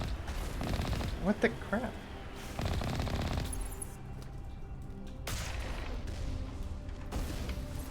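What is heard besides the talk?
gunfire in a video game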